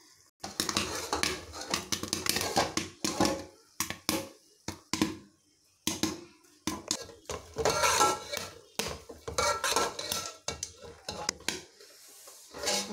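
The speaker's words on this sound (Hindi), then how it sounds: "आपने एहतियात के साथ चम्मच को भी नीचे से 1-2 बार हिला लेना है" A spoon scrapes and stirs caramel popcorn in a pot in bursts of clattering metal with short pauses, close by and fairly loud. A person talks at times between the strokes.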